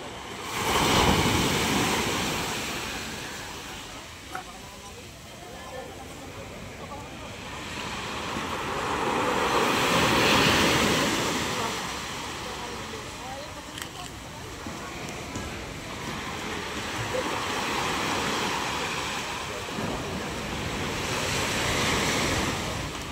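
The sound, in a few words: sea waves against a boat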